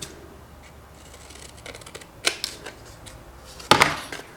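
Scissors cut paper for a handmade card or envelope, giving a few quiet snips and then a sharper, louder cut near the end against a faint room background.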